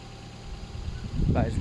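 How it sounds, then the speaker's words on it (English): A Ford Fiesta engine idles with a low steady rumble close by, its sound building slightly toward the end as a voice begins speaking over it. "And listen to that engine."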